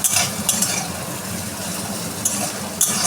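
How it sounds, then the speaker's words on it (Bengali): Ginger, garlic and onion frying in a pan, a steady close sizzle with occasional sharp scrapes and clinks from stirring, no voices. "আমি দেবো আদা, রসুন, পেঁয়াজ দিয়ে এটাকে হালকা করে আমি সামান্য ভেজে নেবো।"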